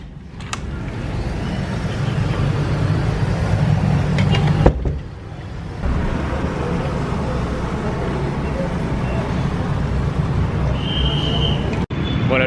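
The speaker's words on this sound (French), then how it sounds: "La circulation c'est abusé ici, il y a trop de scooters" Busy street traffic in Jakarta, Indonesia, packed with scooters, a steady broadband roar of passing engines that dips briefly midway, with a car door thud and a short higher whine near the end.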